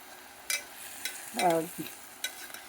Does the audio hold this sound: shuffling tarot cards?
no